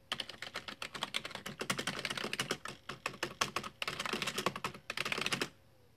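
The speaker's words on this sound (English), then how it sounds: "Now, let's see if we can do any typing with it." Rapid keystrokes on a computer keyboard being tested after maintenance, a close, busy run of clicking taps in bursts that stops abruptly near the end.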